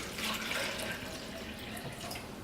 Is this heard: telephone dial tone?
no